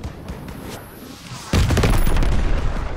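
Heavy, sustained gunfire and blasts in a Call of Duty WWII battle storming a fortress church, breaking in suddenly and loud and continuing as a dense barrage.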